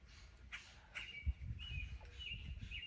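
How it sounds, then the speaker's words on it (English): Small birds chirp and tweet in short, high, faint calls over low background noise at a campsite in Tennessee. "Listen to these little birds."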